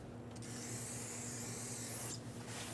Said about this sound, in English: I'm going to wipe the surface of this rotor with brake parts cleaner